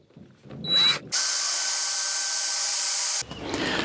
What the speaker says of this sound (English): we're going to drill out these rivets so we can get the old cover off